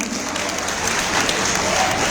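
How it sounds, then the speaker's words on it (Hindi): A seminar audience claps together in steady, dense applause that fills the room, loud and sustained throughout with no break. "एक बार ताली हो जाए।"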